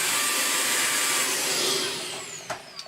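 Beko VRT6221P vacuum cleaner running on its high setting, a loud, close, steady whirring roar that eases slightly toward the end with a few small knocks.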